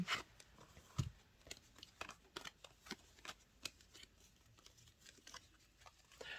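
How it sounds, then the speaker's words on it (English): Tarot cards are shuffled by hand, soft papery flicks and riffles in an irregular rhythm, close and quiet with no talking. "they're still shuffling, which means not all the cards have come out"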